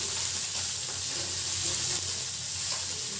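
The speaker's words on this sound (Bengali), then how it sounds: "হালকা শ্যালো ফ্রাই করবো" Small river fish shallow frying in hot oil in a pan for a tangy fish curry give a steady, loud, close sizzle that runs unbroken throughout with no voices.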